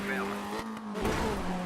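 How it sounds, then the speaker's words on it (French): Ken Block's Ford Focus RS rally car engine in Dirt 3, revving and whining through gear changes with brief tyre squeal, loud and close, under someone talking. "La sonorité du moteur est très belle."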